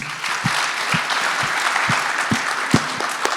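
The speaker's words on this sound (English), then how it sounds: "Please clap your hand again to the Ambassador Glass." An audience applauds an ambassador at a lecture in Japan, a full, sustained wash of clapping with a few sharper individual claps standing out near the front.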